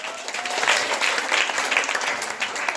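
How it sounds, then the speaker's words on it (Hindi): A school audience bursts into dense, loud applause as a cast member is introduced for a higher secondary school play about Anandi Bai Joshi, India's first woman doctor. The clapping runs continuously and evenly. "जोरदार तालियां बजाइए।"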